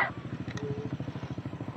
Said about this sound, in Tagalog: Sa dami ng walang helmet, ikaw lang ang maingay na tambucho, tatang.